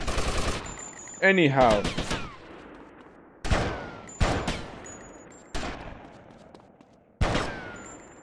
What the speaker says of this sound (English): that was a headshot from a magnum